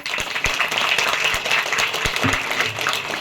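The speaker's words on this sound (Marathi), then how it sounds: "सगळ्यात आधी स्वतःसाठी एकदा जोरदार टाळ्या होऊन जाऊ देत बरं" A burst of lively applause from a group, dense overlapping hand claps throughout.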